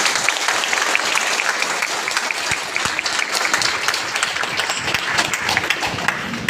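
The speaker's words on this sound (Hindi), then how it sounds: "मैं चाहूंगा कि सर का जोरदार स्वागत किया जाए एक बार तालियों से।" A crowd at a farewell gathering for a district official at the Dumka State Library applauds vigorously, with sharp individual claps standing out in a continuous, close, loud ovation.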